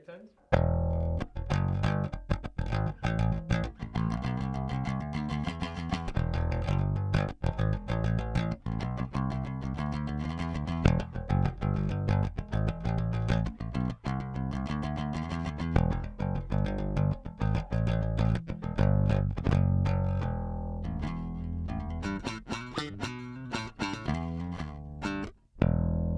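Bass guitar played with a pick, likely a jazz bass, plucked notes in a continuous riff with clear attacks and sustained low tones, close and prominent, with only brief gaps.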